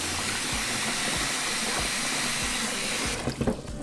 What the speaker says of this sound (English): And now we're going to fill it up with water